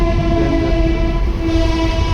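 A train running along a railway line right beside a road, heard close and loud as a steady rumbling roar with a sustained droning horn-like tone throughout.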